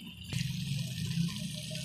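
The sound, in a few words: water being poured into masala in a cooking pan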